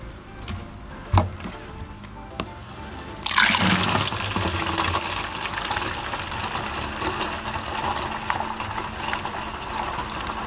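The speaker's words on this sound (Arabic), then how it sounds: "وغادي نكبو كامل في هاد القرعه." A blended mixture is poured into a 5-litre plastic jug, starting with a few small knocks and then a sudden, sustained liquid gush that runs for several seconds, close by.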